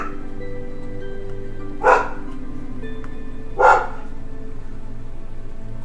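Puppies barking indoors: two short, separate yips about two seconds apart, moderately close over a steady low background hum, with no talking.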